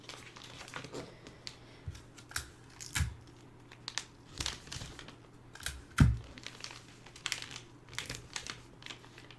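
Wrapping paper is folded and creased around a birthday gift, with close, crisp crinkles and rustles broken by a few sharper crackling presses.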